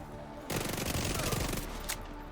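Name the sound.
Vector submachine gun firing in video game The Division 2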